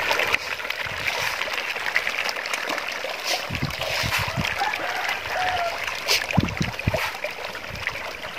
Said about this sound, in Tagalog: napakain na po natin yung ating alagang isda